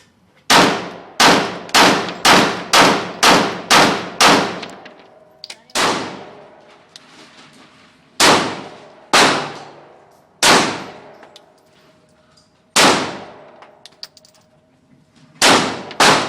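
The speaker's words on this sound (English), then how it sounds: "5 slow fire shots, now for the rapid shots." Shots from a Smith & Wesson SD9 VE 9mm pistol, first a fast string of six or seven loud, sharp reports in quick succession, then several more spaced a couple of seconds apart, each with a ringing tail, close and alone.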